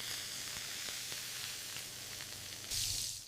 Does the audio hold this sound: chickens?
no